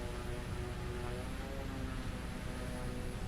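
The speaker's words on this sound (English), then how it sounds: "engine noise?" Aircraft engine drone in Microsoft Flight Simulator 2020 over Newcastle scenery, a steady propeller-like hum that continues unchanged from start to end with no talk.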